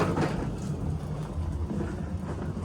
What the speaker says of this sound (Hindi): ऊपर से बारिश आ रखी है आज.